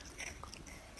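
Someone bites into a crunchy cookie baked in a cupcake shape, with a couple of quick, close crisp crunches over a noisy background.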